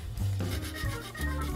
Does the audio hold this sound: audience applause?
no